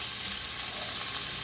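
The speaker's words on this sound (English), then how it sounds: "I'm gonna go ahead and put in the garlic and the ginger and just give it a real quick" Garlic and ginger sizzle steadily in hot oil in a pan, a constant close hiss with faint crackles and no voices, while fried rice is being made.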